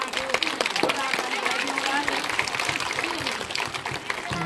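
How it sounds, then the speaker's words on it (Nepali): Audience clapping at a memorial endowment announcement ceremony in Nepal, a steady dense wash of applause from a crowd that holds for the whole stretch, with a few voices and murmurs mixed in. "जोरदार तालीले एकचोटि फेरि पुनः"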